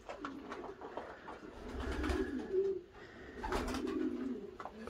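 Pigeons coo softly in a loft, with low throaty cooing rising and falling in two swells over a faint background, fairly quiet and unaccompanied by talk.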